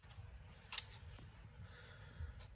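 A single sharp, faint snip cuts a small part for a RockShox Charger damper compression assembly repair, set against quiet low room noise.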